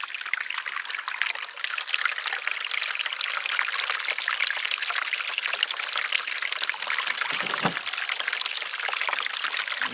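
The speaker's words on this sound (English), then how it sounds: "I kind of want it to be level and sort of dribble into the pond" Water trickles and splashes steadily from a test waterfall into a backyard pond, a continuous close dribbling wash with no voices.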